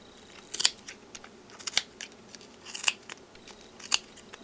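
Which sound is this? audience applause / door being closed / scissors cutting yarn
scissors cutting yarn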